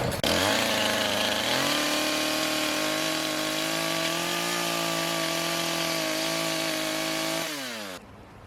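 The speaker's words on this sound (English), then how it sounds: "I decided to use the chainsaw because whacking it with this only, well, it was taking way too long." A chainsaw runs at a steady high revving drone, cutting notches in wood while building a grape arbor in a no-till garden, then winds down near the end; loud and close, with no talking.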